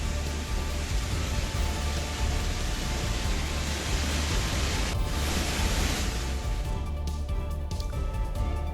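Heavy rain pours steadily on a street in the Delhi NCR area, a dense, loud and unbroken wash of falling water with no voices heard.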